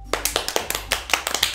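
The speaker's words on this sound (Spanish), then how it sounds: "Los cuatro de nosotros aplaudimos." Applause in the visual novel game Doki Doki Literature Club: a short burst of sharp, evenly spaced hand claps, close and clear, with no talk over it.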